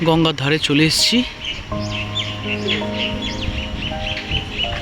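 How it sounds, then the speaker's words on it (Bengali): Birds chirp and call in bright, repeated notes by the Ganges in a green riverside park at Barrackpore, with someone talking over them and steady breeze noise. "পাখি ডাকছে।"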